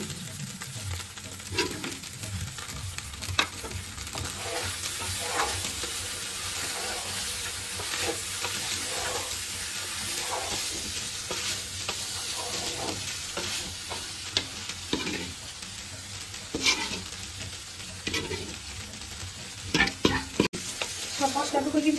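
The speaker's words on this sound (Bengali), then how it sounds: "এখন আমি যে মশলাগুলো রান্না করে রেখেছি সেগুলা দিব আর নাড়াচাড়া করবো" Cooked spice paste for khichuri is stirred in a frying pan, a steady sizzle with repeated scraping and clacking of the spoon that runs unbroken and fairly close for the whole stretch, with no talk.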